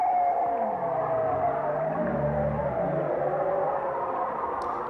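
Bowhead whale calls picked up by a seafloor acoustic array during migration: long, moaning, gliding tones that sweep and overlap over a steady hiss of underwater noise.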